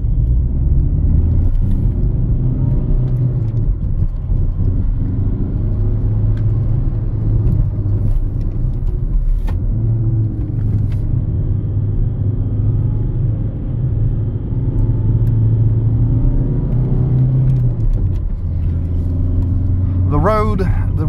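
A 2005 Skoda Octavia 1.9 TDI diesel is driven hard on a slightly damp road, with a steady low cabin engine drone and road rumble, surging in places, while the driver talks throughout.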